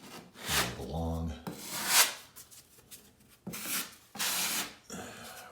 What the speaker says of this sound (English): I'm gonna go ahead and wipe away any excess